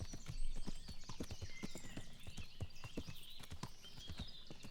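A horse in the medieval video game Kingdom Come: Deliverance trots with steady, rhythmic hoof clip-clops, fairly quiet under soft ambient game sound and birdsong, with no voices over it.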